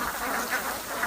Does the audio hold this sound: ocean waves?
no